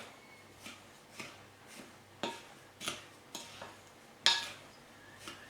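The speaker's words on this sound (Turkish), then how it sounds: "Şöyle bir kuru malzemeleri karıştırıyorum ilk etapta" Dry ingredients, including baking powder, stirred in a bowl for a Turkish şambali dessert: a quiet, irregular run of soft scraping strokes and light clinks of the spoon against the bowl, with no voices.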